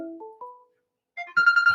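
A phone rings for an incoming call to a live radio talk show, a short electronic ringtone of rising tones, a pause, then a brighter repeated trill.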